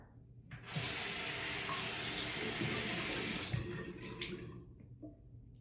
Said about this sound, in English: Let me apply a little bit more water and a little bit more